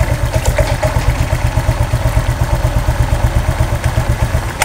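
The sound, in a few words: Honda Vario 125 scooter engine running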